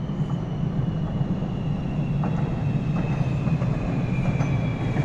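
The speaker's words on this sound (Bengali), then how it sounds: "এটা হচ্ছে মালয়েশিয়ার ট্রেন।" A train in Malaysia rolls past with a steady low rumble and faint rail clatter, constant throughout and fairly close, with no voices.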